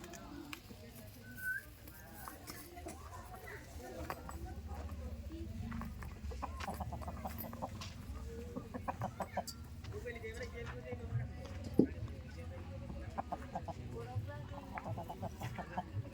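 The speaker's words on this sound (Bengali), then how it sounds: "এইগুলোকে সেই টার্কি মুরগি বলে তো।" Turkeys clucking outdoors near a beach, a loose scattering of soft clucks and gobbling calls at moderate distance over low background rumble, with people talking now and then.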